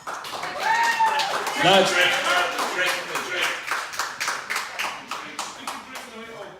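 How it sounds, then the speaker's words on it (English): Scattered clapping from a comedy-night audience at a charity event in Ballyheigue, a patchy round of hand claps running throughout with voices talking over it. "a round of applause, please."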